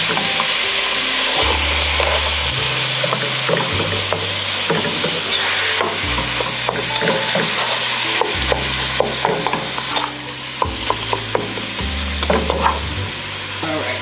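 Chili meat sizzling steadily and loudly in a pan while a utensil chops and stirs it, with frequent sharp clicks and scrapes against the pan throughout, close up and with no voices.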